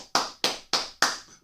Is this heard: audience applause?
yes